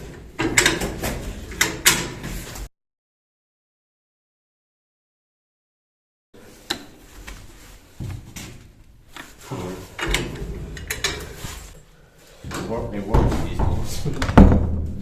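A door is pushed open inside the Goodge Street underground bunker, with hollow knocks, scrapes and rattles echoing amid footsteps, a sudden total dropout partway through, and people talking throughout.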